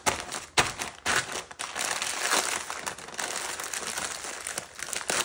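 Parchment paper crinkles and rustles in steady, close handling while baking a pan of chocolate chip treats, with dense crackling bursts and a few sharper crunches throughout.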